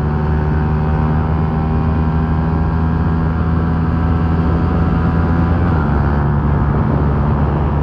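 A Honda Titan motorcycle engine drones steadily while riding, a loud continuous hum with a slight shift in pitch near the end and no voices.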